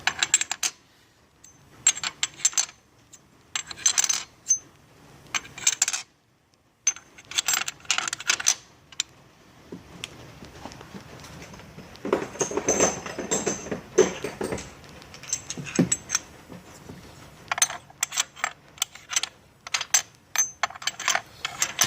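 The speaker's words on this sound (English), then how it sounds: "paddles drop in" Metal paddles clink and clatter as they drop into the rotor slots of a Handtmann VF10 vane pump, a run of small, close, irregular metallic taps and rattles with brief pauses, and no talk.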